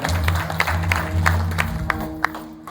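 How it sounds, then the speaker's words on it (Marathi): A few scattered claps from an audience at a Marathi devotional kirtan gathering, fading quickly over a sustained low musical drone. "या सर्वांसाठी एकदा जोरदार टाळ्या वाजवा"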